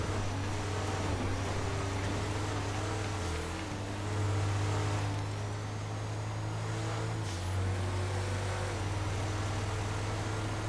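Kalahari off-road car engine in GTA FiveM, a steady low drone that shifts pitch twice as it changes gear, loud and alone with no talk.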